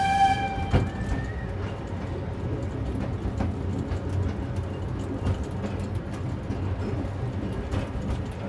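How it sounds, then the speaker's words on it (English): Miniature railway diesel hydraulic locomotive train running on Scarborough's North Bay Railway, a continuous rumbling clatter of wheels and engine with a brief tonal horn or whistle at the start and occasional sharp rail clicks. "It's believed to be the oldest operational diesel hydraulic locomotive in the world."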